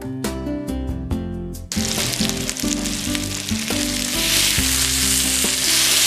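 Soya chaap pieces fry in a pan until golden brown, a loud, continuous sizzle and crackle that grows denser after the first couple of seconds, with no voices.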